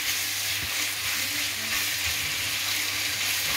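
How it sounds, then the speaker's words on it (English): Garlic chicken sears in a very hot wok, giving a steady, close, loud broadband sizzle that holds evenly throughout with no voices. "with a wok, you can't do medium, it needs to be hot. So it's sealing quite"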